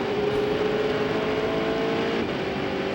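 Sports prototype race car at the Trois-Rivieres ALMS race, 2002, running flat out up the backstretch, a loud steady engine drone with a sustained high tone, close and continuous, no talk.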